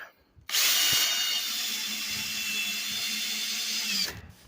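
A power drill drives a screw through a hinge into a 2x4, one continuous close, loud whine lasting several seconds that starts abruptly and cuts off, with no talking.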